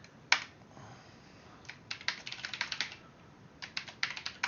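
Keystrokes on a computer keyboard entering a Linux terminal command: one sharp tap, then two quick bursts of rapid, fairly close clicking with brief pauses between, no talking.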